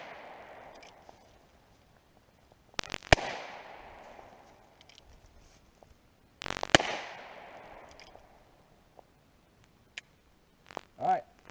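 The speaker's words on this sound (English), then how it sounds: "Just got some tin cans we're shooting at here." Heritage Rough Rider .22 Magnum revolver firing at tin cans outdoors, two sharp loud shots a few seconds apart with short echoing decay, then faint clicks and handling sounds.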